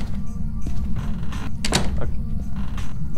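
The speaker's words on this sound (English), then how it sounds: "Can you hear the door? I'm slamming it." A door being slammed hard, one sharp loud bang standing out over a steady low rumble of background noise.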